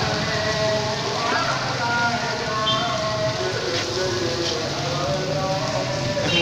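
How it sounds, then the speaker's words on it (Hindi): Heavy rain pours steadily, a dense continuous hiss of drops drumming on surfaces outdoors during a visit to Faisalabad, with faint voices beneath. "इतनी शिद्दत से बारिश तेज़ है"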